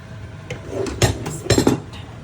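Boiled wheat being stirred into a hot pot of meat for Muharram niaz, with a few metal spoon clinks and scrapes against the pot that come in loose bursts, up close over a low steady background hum.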